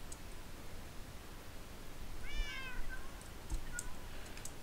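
A single clear cat meow in a video game, rising and falling over about half a second amid a steady hiss, with faint clicks afterward.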